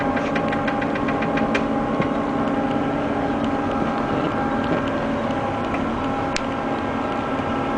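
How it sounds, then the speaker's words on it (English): An AQ1000 nebulizer machine runs with a steady mechanical hum and buzz, marked by faint rapid ticking early on and an occasional sharp click, with no voices. "Turn the machine on manually to test nebulization."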